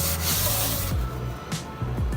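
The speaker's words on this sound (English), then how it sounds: "Just lightly scuff them up." Surfaces on a car being prepared for an auto show are lightly scuffed with scuffing pads, giving soft, close rubbing strokes in short bursts with a few light taps between them.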